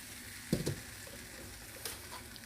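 Pancake batter poured into a hot pan gives a faint, quiet sizzle, with a couple of brief soft clinks of utensils near the start and once more later.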